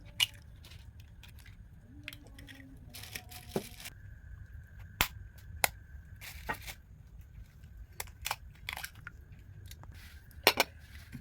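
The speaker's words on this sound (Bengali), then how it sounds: "এখন ডিমটা সুন্দর করে ফাটিয়ে নিচ্ছি।" Three eggs cracked one after another while making egg dough roti, giving sharp, brief cracks and taps that recur through the stretch over a quiet kitchen background.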